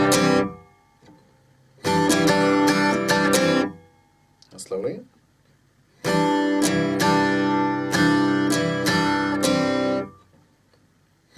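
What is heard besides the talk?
acoustic guitar lick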